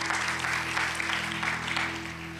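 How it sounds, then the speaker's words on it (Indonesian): Congregation in a church service giving a sustained round of applause, a steady dense patter of many hands over a low electric hum, fairly even throughout. "yang mau berikan tepuk tangan bagi Tuhan kita"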